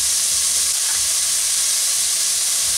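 Radish pieces frying in hot oil in a pan give a steady, loud, close sizzle and hiss that runs continuously with no speech.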